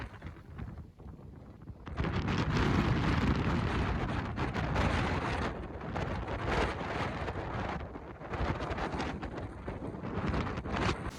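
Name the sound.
strong wind on hilltop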